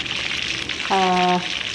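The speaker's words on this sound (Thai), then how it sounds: "ต่อไปนะคะเราก็ไปทอดปลาทูสดของเราก่อนเลยค่ะ" Fresh mackerel frying in hot oil gives a steady, bright sizzling hiss throughout, with a short voice-like tone rising briefly over the crackle partway through.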